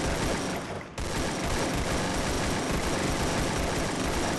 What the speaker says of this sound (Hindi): तभी मेरे राइट में फायरिंग होने लगी, मतलब लड़ाई चलने लगी।